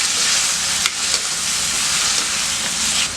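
Tomatoes and salt sautéing in a pan for Tamil-style tomato chutney, a steady bright sizzle and frying hiss with a few soft stirring clicks, close and continuous, no talking.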